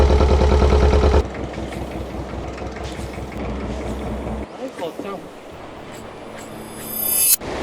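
A fishing boat idles along a peninsula while squid fishing off Vietnam, its engine a steady low drone with a rattling mechanical pulse throughout, louder at first and then continuing at a lower level.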